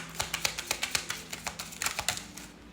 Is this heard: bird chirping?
no